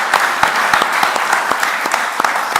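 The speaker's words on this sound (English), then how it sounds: "Then give another round of applause." A small audience at a mentorship session claps. The applause is close and fairly loud, with individual hand claps standing out sharply from a thin, steady patter.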